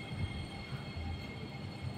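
An MRT train at Red Hills station runs along an elevated line outdoors, giving a steady low rumble of rail traffic heard throughout with no talk over it.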